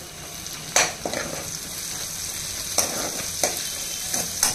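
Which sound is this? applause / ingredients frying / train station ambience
ingredients frying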